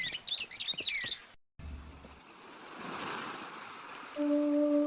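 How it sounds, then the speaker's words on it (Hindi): Flowing river water in an animated moral story: a steady broadband rush of water comes in after a short burst of bird chirps and a brief gap, holding at moderate level, with a faint sustained tone near the end. No one speaks. "अरे, वहाँ पर तो एक नदी है, चलो यहीं पर खाना खा लेता हूँ।"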